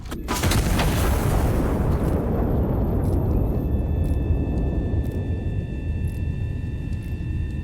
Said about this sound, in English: Now I'm firing a star shell so I can actually see what's going on